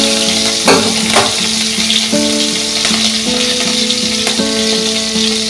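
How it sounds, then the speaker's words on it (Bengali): Green chilies fry in hot oil with a steady, loud sizzle and crackle as fish curry is prepared. A high, sustained tonal hum runs underneath, and no one speaks. "কাঁচা লঙ্কাটা দিলাম, দিয়ে একটু সময় ভেজে নেব।"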